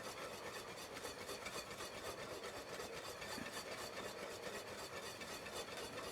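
Green peppercorn sauce is whisked in a pan, giving a fast, even, rhythmic scraping and swishing that repeats steadily throughout at low volume, heard alone.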